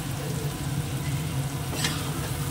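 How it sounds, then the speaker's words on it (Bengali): Onion frying in a pan, a steady close hiss and sizzle with faint stirring, continuous and without talk. "এই যে পেঁয়াজটা ভাজা হয়েছে"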